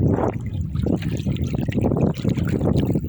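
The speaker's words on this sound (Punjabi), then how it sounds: "ਪਾਣੀ ਜਿਹੜਾ ਨਾ ਕਾਫੀ ਤੇਜ਼ ਹੈ" Fast-flowing water of the Ravi river rushes and churns steadily up close, a loud continuous wash with surging pulses and no voices.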